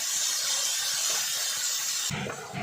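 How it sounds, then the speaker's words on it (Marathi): Chopped onion with half a spoon of salt sautés in a pan, giving a steady close hiss that shifts near the end into a more crackling sizzle. No voices. "अर्धा चमचा मीठ घालून कांदा छान लालसर परतून घ्यायचा आहे."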